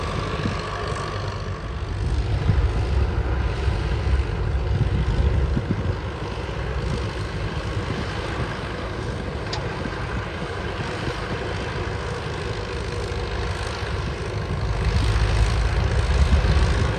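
A heavy tractor engine drones steadily at low revs, a deep continuous rumble that swells slightly at moments as it labors slowly up a sandy slope fully loaded with cassava by Dau Tieng Lake, Tay Ninh.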